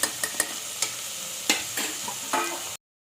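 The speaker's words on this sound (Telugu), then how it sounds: "కొంచెం ఇది పచ్చడి వాసన పోయేదాకా కొద్దిగా వేగనివ్వాలి" Masala fries in a pan for mutton curry, a soft steady sizzle close by, broken by several sharp scrapes and taps of a spoon stirring, before the sound cuts off abruptly.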